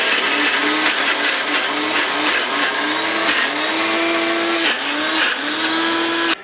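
Ninja blender grinding a Wendy's Frosty shake: a loud, steady motorized whir close by, its pitch dipping and rising as the contents churn, running alone without talk.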